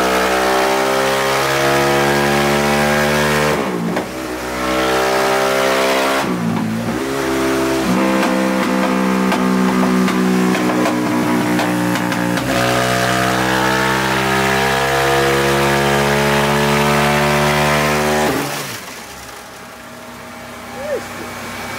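A loud motorcycle engine revs hard on a dynamometer and holds high, steady revs, dropping off briefly several times before climbing again, with a final cut near the end.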